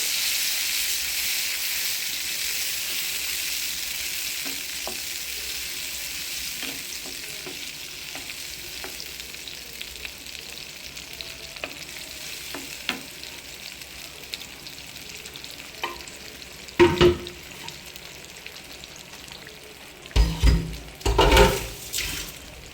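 Green chillies and ground masala sautéing in a pan for sardine curry: a steady close sizzle with stirring scrapes throughout, louder clattering stirs and splashes near the end, no voices.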